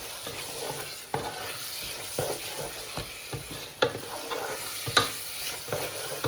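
Dark soy sauce goes into a sizzling stir-fry, a soft frying hiss broken by sharp spatula scrapes and clacks against the pan at irregular intervals.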